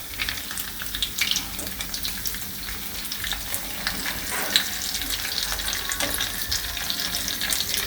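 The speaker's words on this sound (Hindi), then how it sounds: "नीचे भी हम इसे हम पलट दे रहे हैं, इसे तल लेंगे।" Soybean seekh kebabs frying in hot oil, giving a close, continuous crackling sizzle with scattered pops and light stirring clatter.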